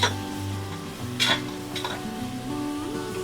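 Mushroom biryani ingredients sautéing in a pan, a steady low sizzle broken by a few scraping stirs and clinks of a utensil against the pan, fairly close and without talk.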